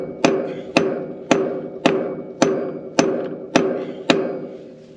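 Eight sharp, evenly spaced metal hammer strikes on a punch, driving at a heavily rusted part on a tractor, each ringing and decaying before the next, close and loud with no talking.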